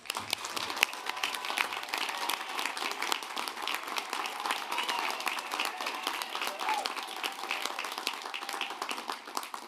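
A large audience applauds graduates at a university commencement ceremony, a steady, dense wash of many hands clapping that holds evenly for nearly ten seconds without speech over it.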